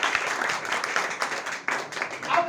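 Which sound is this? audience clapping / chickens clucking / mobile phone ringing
audience clapping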